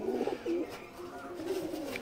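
An aggressive pet pigeon gives a few low, faint coos, one at the start, another shortly after and a softer one near the end.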